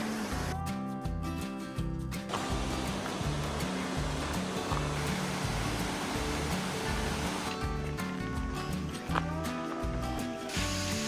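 Water pours steadily over a waterfall along Oregon's Trail of Ten Falls, a broad constant roaring rush with no pauses, while some music plays over parts of it.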